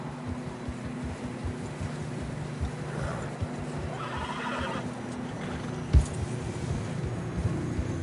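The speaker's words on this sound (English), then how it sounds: "Horses are struggling. Yeah, a lot of fresh snow here." Horses in Red Dead Redemption 2 trudging through deep fresh snow, a whinny and soft muffled hoof steps over a low ambient rumble, with a sharper thump near the end.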